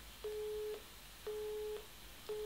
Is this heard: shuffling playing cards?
no